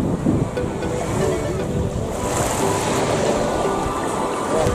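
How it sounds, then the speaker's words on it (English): Waves washing onto a beach with clear blue water in Ksamil, Albania, a continuous broadband wash of surf mixed with wind buffeting the microphone, steady and fairly loud throughout with no talking. "This is the beach."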